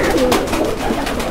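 Pigeons coo in soft, repeated low throaty calls, close by, with a few rustles of movement among the birds.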